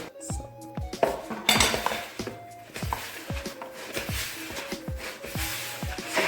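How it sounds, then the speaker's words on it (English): A spoon stirs wet and dry dough ingredients together in a bowl for a mushroom and leek pie crust, with repeated close clinks and scrapes against the bowl in an uneven, busy rhythm. "Use your spoon to give it a mix."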